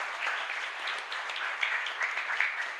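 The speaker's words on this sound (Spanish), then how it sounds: "Fuerte aplauso para todos ustedes entonces" A church congregation applauding during a live Catholic mass at a parish in San Lorenzo, a sustained patter of many hands clapping at moderate distance, steady for a few seconds with faint room reverberation.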